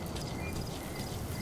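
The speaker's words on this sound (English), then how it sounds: "Well, all right, I got my horse." Steady clip-clop of horse hooves from the video game Metal Gear Solid V, a quiet, even trot that persists without break for a short stretch.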